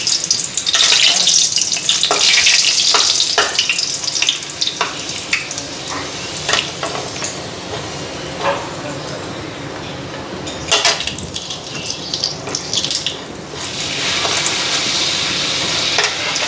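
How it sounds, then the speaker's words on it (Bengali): Papads frying in hot oil, a loud, continuous close sizzle with bursts of bubbling and intermittent scraping and clatter, swelling and easing over a long stretch. "এদিকে পাপড়গুলি ভেজে নিই, তেল গরম হয়ে গেছে।"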